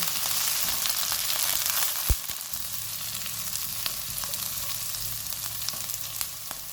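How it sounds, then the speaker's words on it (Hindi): Capsicum frying in a pan over a medium flame for Aloo Manchurian, giving a steady close sizzle with one brief knock of a utensil and no voices. "3/4 कप शिमला मिर्च डालेंगे। इनको भी 2 मिनट तक भूनेंगे।"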